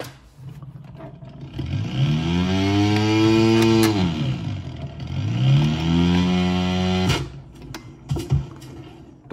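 Simulated RC aerobatic airplane engine in a flight simulator game, a loud buzzing engine tone rising and falling in pitch over two long passes, then cutting off with a few short bursts, no talk.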